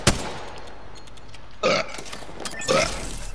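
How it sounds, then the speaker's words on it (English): Two short, rough burps at about 1.6 and 2.7 seconds, heard over steady background noise during an Apex Legends gaming session, with a sharp click near the start. "Yes, burp."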